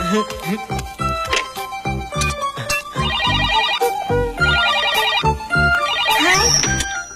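Cartoon telephone from a Tagalog-dubbed Doraemon episode rings in a repeating electronic tone, in steady bursts over an animated music bed, with brief voices early on.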